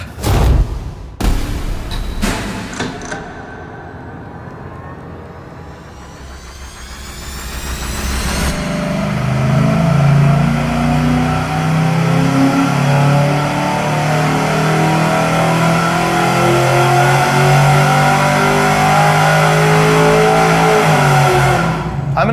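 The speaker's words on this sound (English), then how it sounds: "We're about to do our very first pull with the X pipe." A few sharp bangs, then a V8 engine on a dyno with an X-pipe exhaust climbs into a long, loud, roaring rev that holds near full throttle and stays close and intense.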